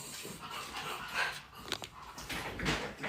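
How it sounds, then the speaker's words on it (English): Dogs waiting to be let out make soft whines and panting noises, with some scuffling and movement nearby, moderately close and continuous through the moment. "Let me let my dogs out."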